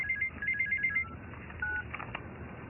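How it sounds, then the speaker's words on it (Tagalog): A cellphone ringtone plays a fast run of bright electronic beeps, close and moderately loud, followed by a single longer tone, over a low background murmur. "Kanino bang cellphone yan?"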